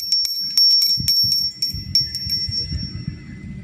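A small, high brass bell tinkles repeatedly in quick, uneven strikes, bright and close, over a soft low rustling.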